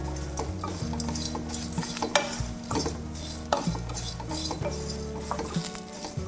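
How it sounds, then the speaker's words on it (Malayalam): Masala being dry-roasted and stirred in a pan over a low flame for a potato masala curry; close scraping and clinking of a utensil against the pan repeats steadily under a faint sizzle, with no talk. "ലോ ഫ്ലെയിമിലിട്ട് വേണം നമ്മൾ ഇത് വറുത്തെടുക്കാൻ"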